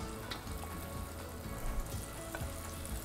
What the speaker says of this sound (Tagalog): Diretso natin sa i-fry